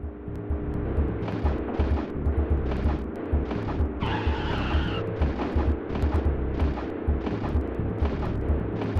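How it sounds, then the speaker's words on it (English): Mine explosion in a racing video game: a roaring burst in the middle of continuous engine drone and rhythmic mechanical pulsing, loud and close. "Somebody hit the mine."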